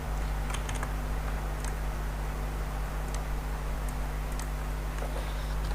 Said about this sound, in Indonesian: Dari dialog run kita ketik cmd.